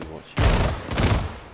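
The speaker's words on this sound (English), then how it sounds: "it sounds like an autocannon of some sort" Autocannon fire in the military video game Arma 3 arrives as two heavy booming bursts of rapid shots, loud and rumbling, with a brief lull between them.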